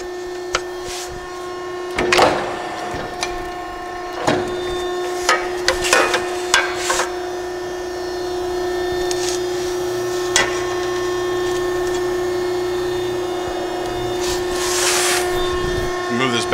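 A used Piranha hydraulic metal cutting power shear, 1/4 inch by 10 foot, makes several sharp clanking cuts over a steady hydraulic hum, with spaced metallic thumps and bangs that are close and fairly loud.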